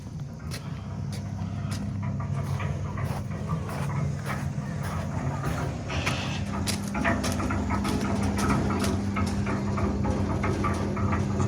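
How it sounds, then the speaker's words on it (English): Concrete mixer running in an Australian backyard, a steady low rumbling drone heard from some distance with faint knocks and rattles over it, continuous throughout. "That's the sound of Cecil. Cecil B the mixer."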